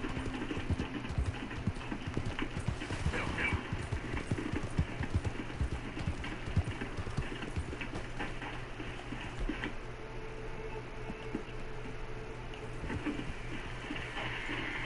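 Horse hooves clip-clop steadily on a trail in the video game Red Dead Redemption 2, a continuous rhythmic patter that stays loud and close throughout, with no voices.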